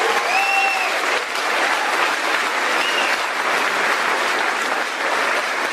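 A graduation audience applauds families at a John Jay High School ceremony, steady dense clapping filling the hall for several seconds, with a few faint cheers rising above it.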